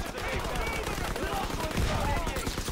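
Rapid gunfire in a WWII-era shooter video game, a dense continuous stream of shots with explosive effects layered throughout, loud and busy, with a voice talking faintly underneath.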